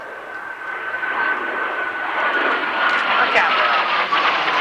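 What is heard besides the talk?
Canberra jet aircraft engines at an airshow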